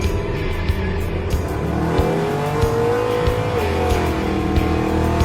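Muscle trucks race side by side at a Father's Day showdown, engines roaring loud and steady with rising revs, tire noise and passing whooshes throughout.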